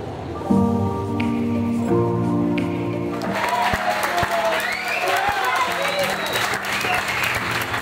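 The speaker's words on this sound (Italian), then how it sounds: "Voi nel box applaudite e vi ringrazio di cuore" Team members in a EuroNASCAR pit box at Vallelunga clap after a second-place qualifying result, a dense patter of applause that builds midway and runs on under steady talk.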